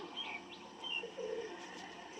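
Soft, low cooing of young Madrasi pigeons, a few gentle murmuring calls with faint chirps, quiet and close-by.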